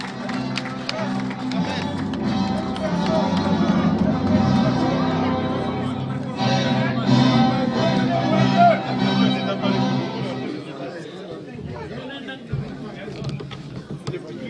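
An audience at a 2017 distinction award ceremony in Guinea gives dense, continuous applause mixed with crowd murmur and music, fading out toward the end.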